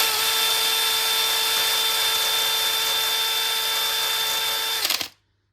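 Sandpaper on a powered tool works over a rusty panel on a Mazda MX-5 NC Mk3 Miata under repair. A loud, steady motor whine holds for about five seconds, then stops sharply with no talking.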